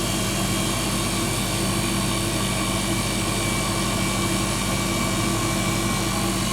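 Rivacold refrigeration unit with a low back pressure compressor running just after start-up, a steady dense mechanical hum and whir with constant tonal drone, close and loud, unchanging throughout.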